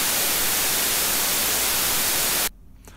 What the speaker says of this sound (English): It takes that very, very tiny bit of data, maximizing it, and it becomes white noise.